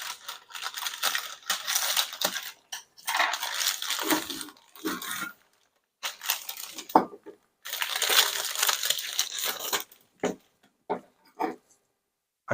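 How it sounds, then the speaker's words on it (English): A package holding air duster cans is opened by hand, with bursts of crinkling, rustling packaging and scattered clicks and knocks, loud and close, separated by short pauses. "Let's unbox this particular package and see what's inside."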